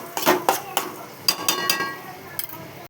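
Okra pieces with green chillies going into hot oil in a pan; a utensil clinks and scrapes against the pan in a few sharp, separate strikes with quieter rustling between.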